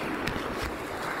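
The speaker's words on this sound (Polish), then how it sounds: "Fale jak na morzu, pięknie to wygląda." Waves on Lake Śniardwy wash around a kayak, a continuous rough rushing of water mixed with wind buffeting, close and steady for a brief moment.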